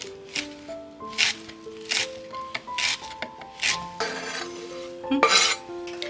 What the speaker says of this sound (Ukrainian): Трошки кріпа. розмішуємо.